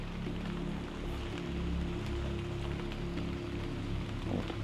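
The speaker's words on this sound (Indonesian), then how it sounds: "Wah, hujan lagi Rere." Steady rain falls continuously at a haunted sacred temple site in Kebumen, a dense close patter of drops on surfaces with a faint low hum underneath and no speech.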